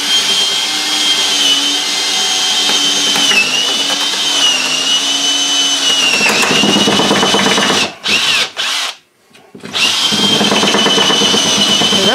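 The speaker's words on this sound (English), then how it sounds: "So what we're doing now is we're drilling holes" A power drill whines loudly and continuously as it bores holes into a wooden 2x4, its pitch shifting as it bores, stopping briefly a few times before starting again.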